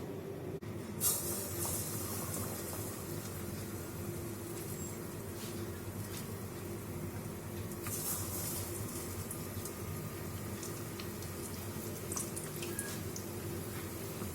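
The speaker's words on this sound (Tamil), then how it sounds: "இந்த மாதிரி ஒரு பீஸ் எடுத்து இந்த மாதிரி நல்லா டிப் பண்ணி இப்படியே எடுத்து எண்ணெயில் போட்டுற வேண்டியதுதான்." Batter-coated banana pieces fry in hot oil on a stove at medium heat, a soft continuous bubbling hiss with faint crackles, fairly quiet and close.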